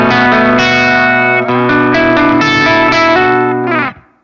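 An electric guitar played through a Friedman JJ Jr. amp set to a clean tone rings out in a loud, sustained chord with a few strummed changes, then stops abruptly near the end.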